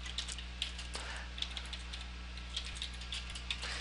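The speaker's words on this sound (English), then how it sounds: "So I'm going to type in a quick message here." Light, quick keystrokes on a computer keyboard tap in soft irregular bursts over a steady low hum, close and quiet, with no talking.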